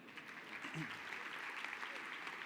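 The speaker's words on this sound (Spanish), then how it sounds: "Un aplauso grande para Daniel" Audience at a business forum talk in Argentina clapping for an attendee, a brief, quiet patter of applause with a low murmur of voices underneath.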